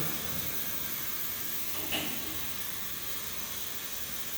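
A steady, loud hiss of steam escaping from a pressure cooker cooking beans runs throughout, with a brief sharper burst near the middle.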